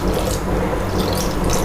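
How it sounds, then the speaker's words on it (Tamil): Water pouring steadily into a cooking pot of mutton for Tamil-style mutton varuval, a continuous close splashing gush running through without pause and no talk. "3/4 டம்ளர் தண்ணி ஊற்றிருக்கேன்."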